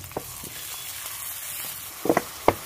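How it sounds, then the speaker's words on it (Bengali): Garlic paste, dried chili and tomato paste with spices sizzle and fry in a pan for a duck curry, a soft steady hiss broken by a few sharp crackles and spatters near the end. "লবণ, হলুদ, মশলা একসঙ্গে ভালোভাবে কষিয়ে নেব"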